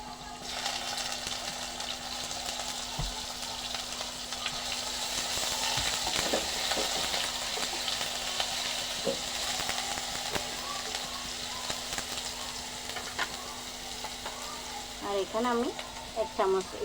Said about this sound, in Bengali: আমি এখানে এক চামচ রসুন কুচি এক চামচ পেঁয়াজ বাটার নিয়েছি আমি দিয়ে দিচ্ছি